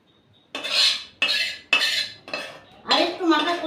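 Stingray fish curry being ladled and scraped onto a flat metal plate, with five distinct bursts of utensil clatter and clinking against the dish, close and fairly loud, no talking.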